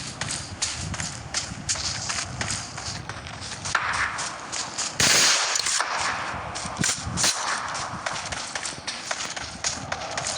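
Gunfire in the mobile battle-royale game PUBG Mobile, a series of sharp irregular shots and cracks over game movement sounds, with one louder burst midway.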